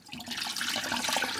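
Soaked morel mushrooms are rinsed under running water, a steady close hiss and splash of flowing water that builds quickly and holds for a short stretch with no talking.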